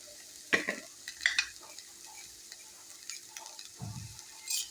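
Coriander seeds and coconut roast in a pan over onions for a spicy crab curry, giving faint, sporadic crackles and occasional soft clatter amid quiet stretches.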